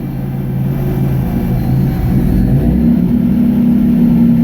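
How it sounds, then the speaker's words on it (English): Turbocharged engine in a 1999 Nissan Frontier pickup runs steadily and rises in pitch as it revs, a loud, close, continuous drone with no one speaking. "here's the difference that made"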